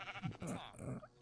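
Sheep bleat in Minecraft, a couple of short game bleats blending into a steady background of other game noise, with no talk.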